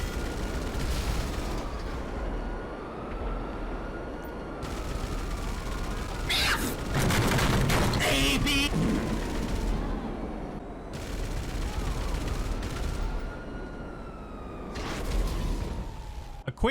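Rapid bursts of meme cannon fire in GTA Online, heavy volleys in repeated clusters over a steady engine-like drone, with a loud dense barrage in the middle and sweeping whistling tones.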